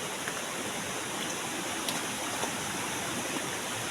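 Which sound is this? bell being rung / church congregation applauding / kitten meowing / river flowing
river flowing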